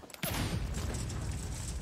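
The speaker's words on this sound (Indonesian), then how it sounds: "Granat itu terlempar dan meledak." A grenade explodes in a film scene, a sudden loud blast that bursts in after a brief quiet and rolls into a dense, sustained rumble.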